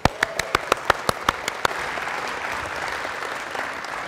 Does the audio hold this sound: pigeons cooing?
no